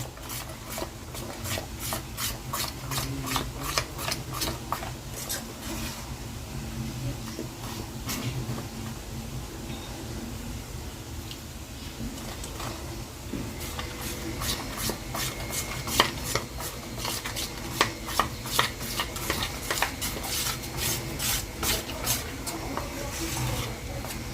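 Capsicum pakora batter being mixed by hand in a bowl, giving soft, steady squelching and rubbing strokes in a repeated rhythm, close and fairly quiet, with a person talking at times.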